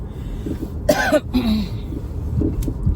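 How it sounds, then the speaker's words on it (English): A couple of short, dry coughs close by, followed by a faint throat-clearing sound in an otherwise quiet room. "I'm coughing because I just blew my nose and the tissues are dusty"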